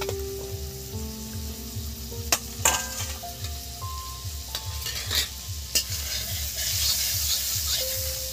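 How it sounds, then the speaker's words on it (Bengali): Chopped ginger and garlic frying in melted butter for a tomato soup, a steady close sizzle under rhythmic stirring with a few sharp clinks of a utensil against the pan, no talking. "এবার এই বাটারের মধ্যে এই যে আদা আর রসুন কুচি দিয়ে দিলাম"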